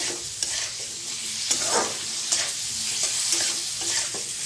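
Cauliflower florets frying in hot oil while being stirred, a steady close sizzle with periodic scraping clicks from the spoon against the pan, no voices.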